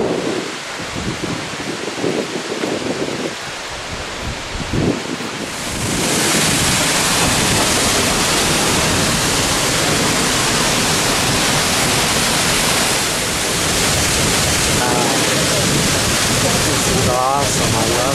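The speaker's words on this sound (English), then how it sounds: "Got a variety of waterfalls here." Waterfall on Iceland's south coast, heard from close by and behind the falling water: a loud, continuous roaring rush of water with heavy wind buffeting the microphone, steady throughout the whole stretch.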